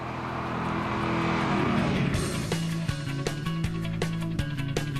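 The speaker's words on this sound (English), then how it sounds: "A lot of road noise comes through the chassis" A 2002 Saleen S7 supercar on the move, its engine and road noise forming a steady loud drone inside the cabin, with a tonal rise midway and repeated knocks and thumps from the firm suspension over the road surface.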